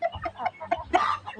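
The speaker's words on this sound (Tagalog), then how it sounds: "Mga manok ko nakapatong na sa bato." Chickens clucking on a rocky yard, several short close clucks and calls in an uneven rhythm over low background noise.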